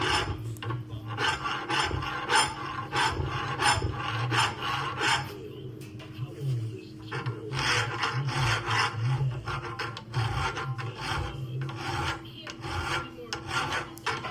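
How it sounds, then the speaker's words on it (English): A hand file rasps across air-hardening steel being shaped into a chain maker's stake anvil, a close, steady run of back-and-forth strokes with a brief pause midway before the rhythmic scraping resumes. "really it files pretty decent"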